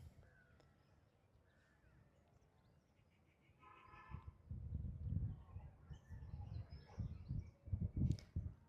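Pigeons kept beside chickens at a farm park in Pudukkottai, heard as a brief harmonic call followed by repeated low, throaty bursts in irregular clusters, fairly close, with no talking.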